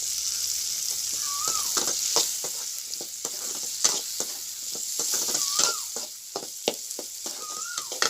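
Onions and tomatoes frying in a pan for a fish curry give a steady close sizzle, broken by repeated sharp scrapes and clicks of a stirring spoon, with no voices.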